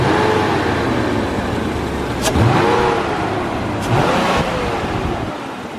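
A Toyota 1JZ engine revs loudly nearby over a rough, steady idle, with two sharp throttle blips that flare and fall back, then settles to a rumbling idle.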